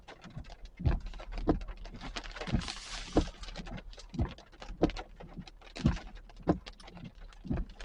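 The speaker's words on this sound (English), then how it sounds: "these are some massive raindrops" Large, heavy raindrops patter during a cold evening thunderstorm with nearby lightning, hail and gusty wind, striking in distinct close impacts over a steady wet background hiss.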